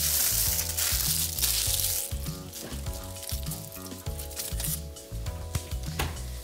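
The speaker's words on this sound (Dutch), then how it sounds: "bij mij zijn de uien al aan het fruiten. Want ik hoor ze" Onions sizzle steadily in a hot pan, a close crackling hiss, while a low rhythmic thumping pulses underneath.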